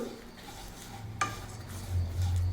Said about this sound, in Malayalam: ചെറുതായിട്ടൊന്ന് ഇളക്കി കൊടുക്കാം ലോ ഫ്ലെയിമിൽ വെച്ചിട്ട്